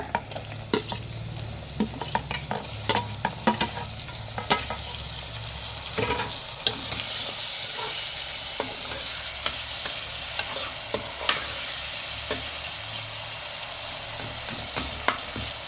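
Peppercorns and tomatoes frying in a pan for a cabbage fry, soft sizzling under frequent scraping stirs and clicks of a utensil, close up and fairly quiet, no talk.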